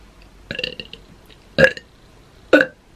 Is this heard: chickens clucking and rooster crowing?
no